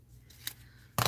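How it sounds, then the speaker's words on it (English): Scissors snip through paper scraps with a quick, faint crisp cut, followed by a louder, sharper snip at the end. "So see, you can just cut your little pieces"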